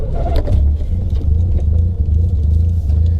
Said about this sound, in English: Pop start.